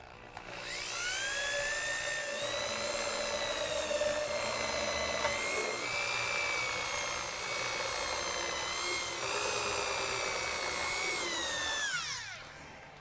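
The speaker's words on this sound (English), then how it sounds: "maybe I should be drilling smaller pilot holes first." A power drill bores small pilot holes, whining up to speed and holding a high, steady pitch with slight dips as the bit bites, then spinning down at the end, close and loud.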